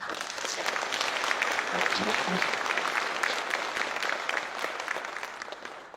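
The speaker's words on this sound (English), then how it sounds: "So, esteemed panel, and please give them a round of applause." An audience applauds a panel of speakers, a steady, dense round of clapping that holds for several seconds before easing off at the end.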